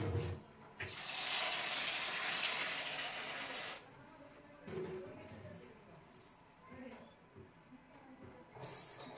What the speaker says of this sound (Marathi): तर आता ही तुरीची डाळ मी स्वच्छ धुवून घेते.